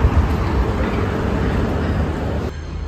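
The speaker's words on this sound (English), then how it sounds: "So we are at the train station now." Ambient noise at a train station: a steady, loud low rumble of rail and traffic with a broad wash of background noise and no clear talk, cutting to a quieter tone near the end.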